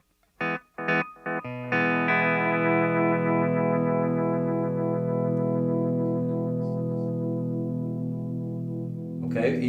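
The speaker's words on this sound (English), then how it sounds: "So let's turn the delay on and listen to it just a second." A pedal steel guitar through a Keeley Caverns delay and reverb pedal on its delay setting: a few short plucked notes, then a long sustained chord ringing out with trailing repeats, fading near the end, no talking.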